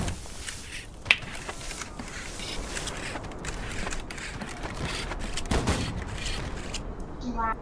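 A video game gunfire volley crackles in scattered, uneven shots, mostly soft with one sharper crack early and a denser burst toward the end, under faint voices.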